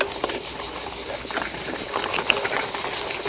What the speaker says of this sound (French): Accompagné par le chant des cigales, s'il vous plaît.